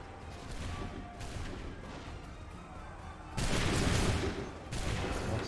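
Musket volleys in Assassin's Creed III: massed shots ring out in a dense, crackling barrage, rumbling and distant at first, then a louder close volley bursts midway and another follows near the end.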